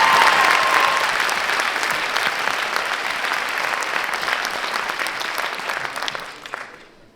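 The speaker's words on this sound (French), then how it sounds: "vous pouvez l'applaudir." Steady, full-hall applause in a theatre at an inter-high-school eloquence contest final, greeting an introduced guest, loud and continuous for several seconds before tapering off abruptly.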